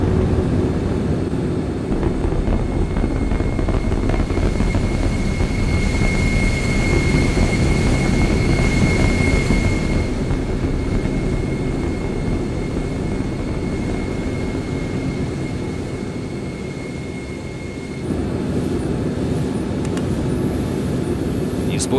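Military jet aircraft from Call of Duty: Black Ops rolling down the runway for takeoff, a loud steady engine roar with a sustained whine that holds for most of the stretch, dips slightly, then swells again near the end.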